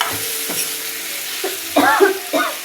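Tomatoes going into frying gongura chicken in a pan, sizzling close by with a few bursts of stirring and scraping that build toward the end, over a low steady hiss and no voices.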